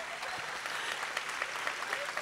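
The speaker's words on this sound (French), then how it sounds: "on peut applaudir" Audience applause at the Kids Voice Tour season 5 final concert at Stravinski, Montreux: a steady, dense wash of clapping from a large crowd that fills the whole moment without pause.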